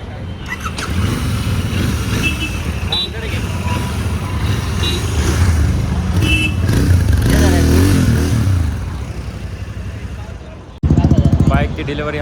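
A Royal Enfield Continental GT 650 motorcycle engine runs through a steady, loud idle and low revving just after delivery in Nashik, with a sharp louder burst near the end and people talking nearby.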